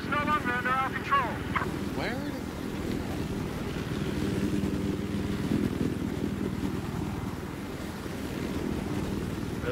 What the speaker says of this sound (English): did somebody just like drive a chopper to help me capture?